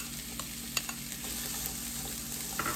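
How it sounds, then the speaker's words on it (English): A whole onion frying in two tablespoons of oil before ground beef goes in; a dense, even sizzle fills the short stretch with a few faint clicks of stirring, and no talk. "I have 2 tablespoons of oil in here. I'll be putting in that onion"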